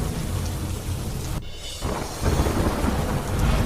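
Heavy, unbroken rain pours down during a monsoon storm in the hills near the Tapti river in Madhya Pradesh, with a thunder rumble rolling through the middle and the downpour swelling louder toward the end.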